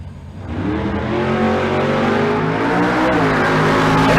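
A 1967 Plymouth Barracuda drag race car makes a solo run at a drag strip. Its engine roars loud and close as it launches and pulls hard, and the revving climbs steadily through the gears.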